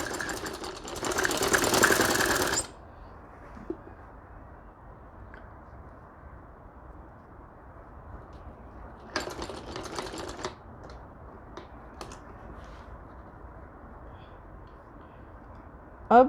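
Sewing machine stitching dori piping onto a kameez: a loud mechanical burst of stitching at the start, a quiet hum with light clicks through the middle, then a second shorter run of stitching.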